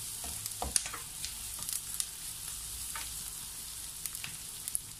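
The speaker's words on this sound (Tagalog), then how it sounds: "we continue to saute this one for a few seconds" Onion and garlic sautéing in a pan, a steady close sizzle with occasional stirring scrapes and soft pops, no talking over it.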